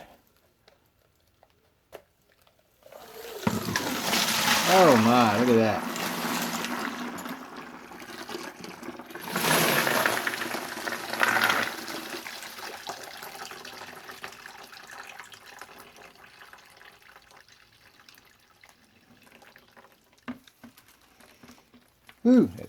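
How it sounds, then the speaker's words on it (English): Dirty water pours out of a Frankford Arsenal wet tumbler through a sifting screen, a close rushing splash in two main bursts followed by trickling, with a person speaking briefly. "To empty the water out."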